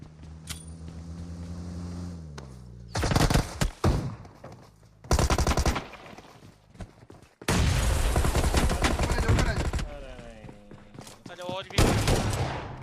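Shotgun and rifle fire in a PUBG/BGMI mobile battle-royale match, bursts of loud close blasts and rapid volleys separated by short quieter gaps, with in-game vehicle engine noise between shots.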